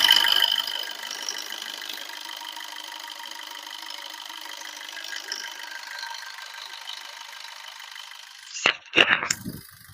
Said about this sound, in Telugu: ఇంజిన్ అయితే స్టార్టింగ్ అవుతుంది.